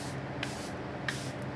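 Two brief, soft spritzes of setting spray onto a face, about half a second apart, faint and close.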